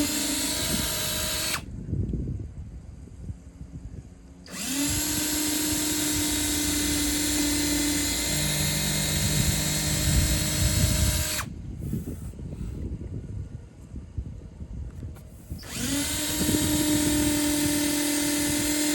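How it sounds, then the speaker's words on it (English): A power drill bores pilot holes into joists while a Starlink mobility mount is installed, whining in two long, loud runs separated by brief pauses, with no talk. "Next, I'm going to drill some pilot holes."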